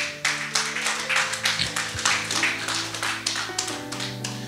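A church congregation claps together in praise, steady rhythmic hand claps at a moderate tempo over a sustained musical drone, with no talking.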